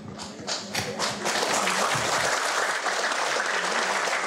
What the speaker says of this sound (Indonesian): Ini ada 500 orang, kayaknya baru 100 orang yang tepuk tangan